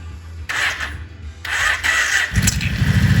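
A four-wheeler, freshly fixed after an oil leak and oil change, cranks briefly and then catches, its engine rising into a steady, loud, rough idle close by.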